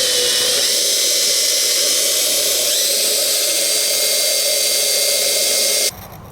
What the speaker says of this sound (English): Drill your first hole here, so when you go inside the trunk you'll know where to drill